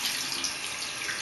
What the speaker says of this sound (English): Let me show you how to wash my hands.